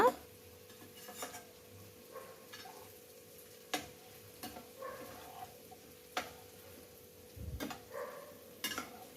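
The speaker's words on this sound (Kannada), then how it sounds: "ಚೆನ್ನಾಗಿ ಫ್ರೈ ಮಾಡ್ಕೋತಾ ಇದ್ದೀವಿ ಇವಾಗ" Bitter gourd frying in a pan for a home-cooked dish, a quiet steady sizzle with sharp utensil clicks and scrapes against the pan recurring every second or two, no talking.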